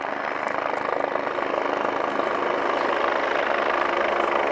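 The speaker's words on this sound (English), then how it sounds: "once the 109 is established in the hover" An Agusta 109 helicopter hovers at an airshow at Fairford, its rotor and turbine making a steady, broad whine and thrum that holds loud and even for several seconds.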